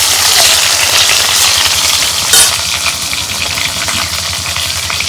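Chopped onions drop into hot mustard oil in a pan, making a loud, continuous sizzle with a brief sharper burst midway and a low rumbling hum beneath, no voices.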